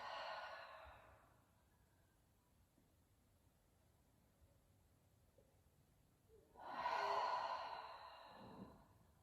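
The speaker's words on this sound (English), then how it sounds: "Exhaling it all out." Deep, slow exhale of breath during guided rest after a core strength workout, one long close airy sigh following a quieter breath near the start.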